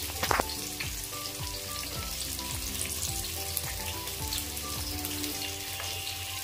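Chopped onions fry in hot oil alongside shahi jeera, star anise, cinnamon, cardamom, cloves, black pepper and bay leaf for a biryani, giving a close, continuous crackling sizzle with scattered pops and faint steady tones in the background.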